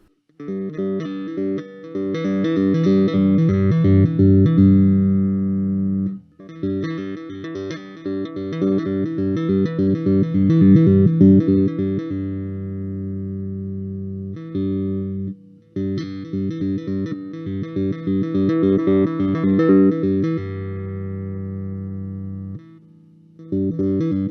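Repeated bass guitar notes through a Markbass Marcus Miller V3 amp, tone shifting in character as the midrange is swept from nothing upward, played in phrases separated by short pauses.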